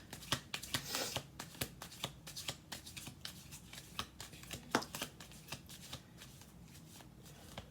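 A deck of cards being shuffled gives rapid riffling bursts and sharp flicking snaps in an uneven rhythm, close and fairly quiet, with no voices.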